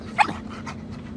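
A dog gives a short sharp yelp followed by a few quick breathy pants, close and fairly loud over a low steady hum.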